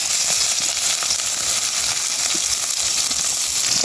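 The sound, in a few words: rohu fish frying in oil in a wok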